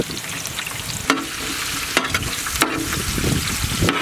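Sliced ginger for kung pao chicken sizzles steadily in hot oil in a pan, with a few sharp stirring clatters of a utensil against the pan over the continuous frying hiss.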